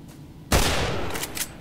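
A single loud gunshot fired in the S.T.A.L.K.E.R. Narodnaya Solyanka mod, a sharp close blast after a quiet start, followed by a decaying rumble and a couple of faint metallic clicks.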